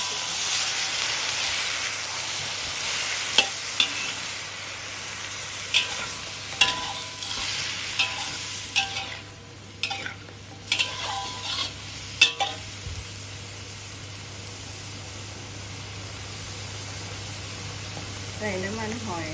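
Zucchini stir-fries with oil and garlic in a pan, giving a continuous sizzling hiss broken by a series of sharp spatula clinks and scrapes in the middle, while a person talks over it.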